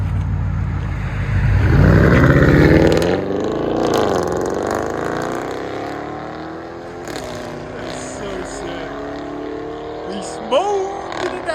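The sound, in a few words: Audi S7 4.0L V8 turbo straight-piped dual exhaust revving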